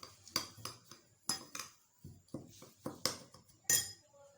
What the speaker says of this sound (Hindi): इस मिसाले को अच्छे से मिक्स कर लेना है।